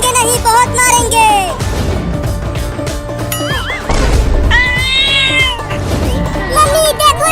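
A cartoon cat meows several times, mixed with busy music and playful character voices in a Hindi comedy scene, the meows rising and falling over a loud, continuous backing.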